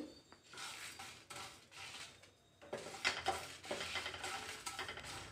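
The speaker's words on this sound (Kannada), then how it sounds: "ಕಮ್ಮಿ ಫ್ಲೇಮಲ್ಲಿ ಇಟ್ಟು ನೀವು ಚೆನ್ನಾಗಿ ಫ್ರೈ ಮಾಡ್ಕೊಳ್ಳಿ." Dry red chillies and coriander seeds roast in a pan over a low flame, a soft clatter of a spoon scraping and stirring in rhythmic bursts with faint rattling of the seeds, close and fairly quiet.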